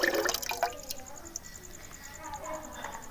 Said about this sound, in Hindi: थोड़ा सा पानी जग के अंदर डाल के वो भी इसके अंदर ऐड कर देते हैं